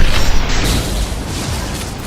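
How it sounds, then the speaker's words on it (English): Flashbang grenade blasts in the Mass Effect 2 shooter game, a loud dense burst of noisy rumble and crackle over about two seconds, with a sharp onset fading into sustained combat din. "Watch out, flashbangs!"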